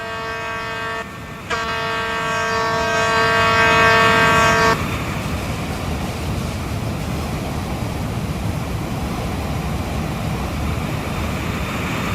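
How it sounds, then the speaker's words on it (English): Two-tone InterCity 125 horn sounding in the RO-Scale train game, a loud sustained blast of a few seconds, briefly broken after the first second, then steady rolling train rumble running on alone. "I may hear intercity 125, and it's getting closer"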